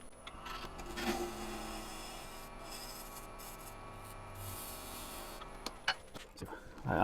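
A lathe turning tool peels down a wooden blank ahead of truing a tenon, giving a steady close rasping, scraping cut with a brief lull, a sharper knock near the end, and faint talk in the background.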